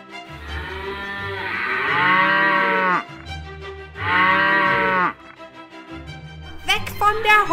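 Cows moo loudly and close, two long drawn-out calls with a pause between, followed by a shorter bleat-like call.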